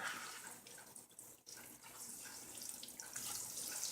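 Keto tortilla frying in hot oil, a steady bright hiss and crackle of bubbling oil running continuously, close and fairly loud, with a brief dip partway before the sizzle builds stronger toward the end.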